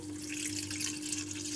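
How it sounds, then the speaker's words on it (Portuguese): Cold water poured steadily from a container into a bowl for rustic bread dough, a continuous close splashing hiss with no talk. "vou pôr 350 ml de água"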